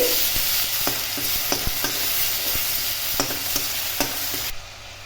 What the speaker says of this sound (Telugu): ఇప్పుడు అడగంటకుండా చక్కగా కలుపుకోవాలి